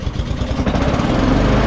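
A Honda lawn mower engine, just refitted with a new blade, runs loud and close with a steady, rough mechanical drone and no voices.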